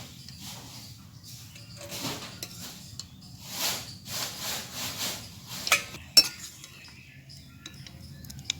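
Boiled olives are taken off the heat and drained. Utensils scrape and clink against a pot in scattered bursts, with one sharp knock near the end, all close by and fairly quiet.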